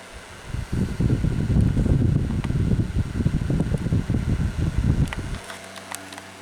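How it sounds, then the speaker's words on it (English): Galaxy 9-inch oscillating table fan running with worn, noisy bearings, giving a steady close whir with faint rattling that cuts out abruptly near the end, leaving a low hum. "wasn't for that annoying bearing sound, this would be fairly quiet"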